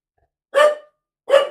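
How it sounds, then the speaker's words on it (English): A pet dog gives two sharp barks about three-quarters of a second apart, close and fairly loud, with silence around them. "Stop barking."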